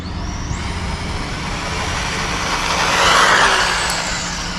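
Traxxas Mini Rally VXL RC car on a 3S battery with stock gearing, a steady high electric whine and rushing tire noise that swells around the middle as it passes close, with no voices.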